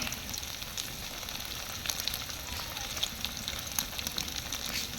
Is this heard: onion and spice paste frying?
yes